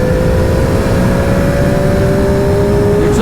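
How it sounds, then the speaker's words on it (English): A Triumph Daytona 765 Moto2 motorcycle with a loud aftermarket Arrow exhaust drones steadily up close, its pitch holding nearly constant with a gravelly exhaust rasp underneath and a slight rise near the end. "The exhaust on this is a little bit louder"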